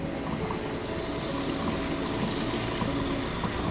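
Berry-dyed yarn being rinsed under running water from a tap, a steady close rush of flowing, splashing water that continues without a break.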